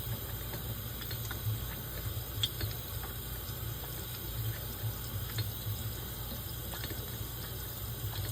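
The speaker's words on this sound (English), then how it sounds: "I'm just going to go to running water" Tap water runs steadily as a hand hones a curved straight razor on a coticule stone, a continuous soft wash with faint scraping over a low hum throughout.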